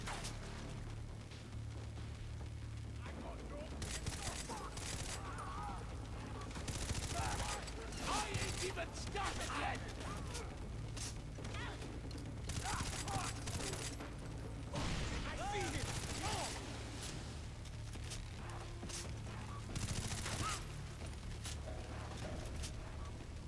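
Gunfire and clattering weapon mechanisms from the Far Cry 3 open-world shooter run in steady bursts through a dense, loud game mix, with someone talking over the action throughout.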